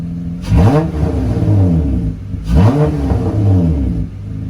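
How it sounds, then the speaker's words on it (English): An Acura TL J-series car engine idles, then revs up twice in quick bursts, each rise and fall of pitch close and loud before settling back. "I'll give her a little rev here."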